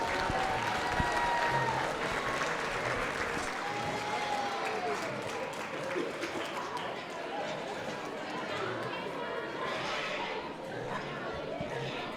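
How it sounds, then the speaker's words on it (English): Crowd applauding the kids at a junior livestock show, a steady broadband clapping that holds for the whole stretch amid arena chatter and bustle, with an announcer's voice over it. "let's give all these kids a round of applause"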